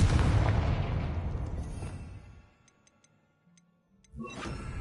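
A Confringo fire spell explodes in the Hogwarts Legacy video game with a heavy boom whose rumble fades over a couple of seconds. Faint ticking follows before a second burst erupts near the end.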